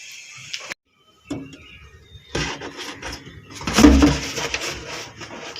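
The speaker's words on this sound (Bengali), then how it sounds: "এবারে গাছ লাগাবো, এই জন্য কৌটোটা কাটছি।" Plastic container being cut by hand at home to make a pot for planting a tree, with irregular scraping and cracking bursts, a short silent gap, then louder crunching close up.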